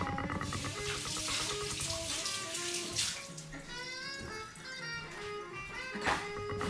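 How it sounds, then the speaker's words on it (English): Running tap water pours steadily into a sink as hands are washed under it, a continuous close splashing wash that stays fairly loud throughout with no talking. "I'm gonna just wash my hands because they're all slippery from the avocado."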